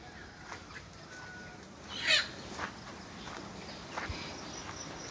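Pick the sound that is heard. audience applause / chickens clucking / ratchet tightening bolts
chickens clucking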